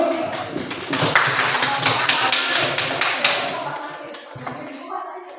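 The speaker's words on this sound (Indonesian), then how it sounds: "Kita aplaus untuk kita semua" An audience applauds at an Indonesian teachers' session on positive classroom culture, producing a dense, sustained clatter of many hands that stays fairly loud for several seconds and then fades slightly toward the end.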